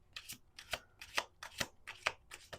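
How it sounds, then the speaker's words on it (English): A deck of tarot cards is riffled and shuffled close up. It makes about seven quick crisp ripping bursts in an even rhythm, fairly quiet, with no voices. "One more shuffle."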